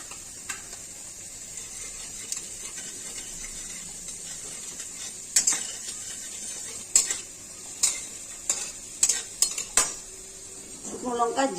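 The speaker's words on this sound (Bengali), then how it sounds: "এখন আমি ফোড়নে জিরে দিয়ে দিচ্ছি, সাদা জিরে।" White cumin seeds hiss steadily in hot oil in a pan with fried potato and carrot, while a spatula knocks and clinks against the metal in sharp bursts during the second half.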